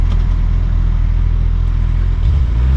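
A Suzuki Hayabusa 1300cc motorcycle engine gives a loud, steady low rumble close by, with a slight change in pitch near the end and no talk.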